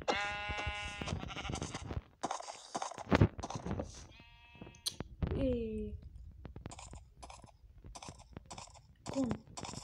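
Sheep bleating in Minecraft, several wavering bleats mixed with crunching and chewing game sounds, with a person talking over parts of it.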